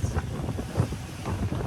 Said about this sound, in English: now we've got 30 knots gusts